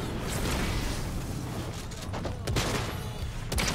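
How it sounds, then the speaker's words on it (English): Gunfire from the video game Fortnite rattles in dense bursts over a loud, busy background, with a few sharper shots standing out toward the end. "Oh, I'm getting shot, I'm getting shot, I'm getting shot,"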